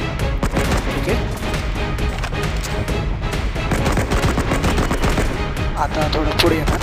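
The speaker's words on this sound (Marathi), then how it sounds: "आपला हा खांबच्या पासून फायरिंग करतो आहे" Enemy gunfire in a shooter video game, a dense, continuous rattle of loud automatic shots with crashing impacts, close and unbroken for several seconds.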